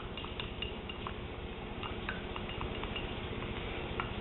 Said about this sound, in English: if you just keep stirring it, it eventually mixes in and it cools and solidifies again real quickly